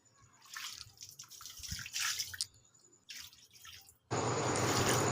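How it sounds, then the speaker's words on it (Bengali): Rohu fish roe rinsed under a running kitchen tap, splashing water in uneven bursts with pauses, then a steady loud full stream at the end, no talk. "তো এখন আমি ডিমগুলো ধুয়ে নেবো।"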